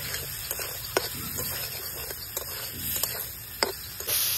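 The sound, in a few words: stir-frying fish masala in a pan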